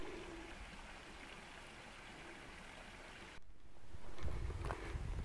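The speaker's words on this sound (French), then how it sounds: "Et là, on entend un petit ruisseau." A small stream flows steadily near a fenced walking path on the country trail, a soft continuous wash of water with birds faintly present and a brief rustle near the end.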